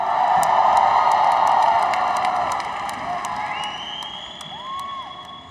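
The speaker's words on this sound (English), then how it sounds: "A beautiful round of applause." A crowd at an MMA event in Kuala Lumpur, Malaysia, roars for winner Reece McLaren after his arm-triangle submission. The cheering is loud and sustained, with whoops and sharp whistles, then slowly eases down.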